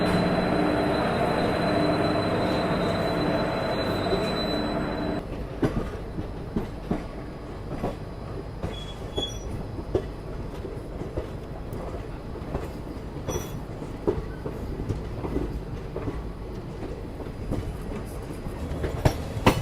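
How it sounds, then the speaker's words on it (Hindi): Indian Railways Khajuraho–Udaipur Express rolling at close range, a loud steady rumble with rhythmic wheel clicks and occasional squeals over the rails throughout. "यहाँ उदयपुर की ओर जाने वाली खजुराहो उदयपुर एक्सप्रेस भी चलने को तैयार है"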